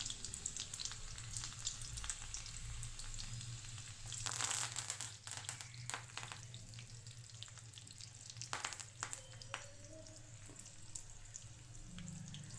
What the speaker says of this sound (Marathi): अशा प्रकारे आपल्याला फोडणी देऊन घ्यायची आहे.